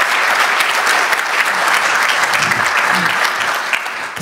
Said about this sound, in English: Applause, Esther.